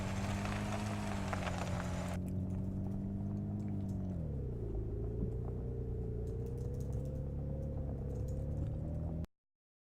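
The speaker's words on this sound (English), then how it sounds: "rumble of the tires on the ground" A car in the video game Unturned 4.0 rolls over coarse ground, its tires giving a steady, close rumble under a droning engine tone that dips and rises slightly, with no talking.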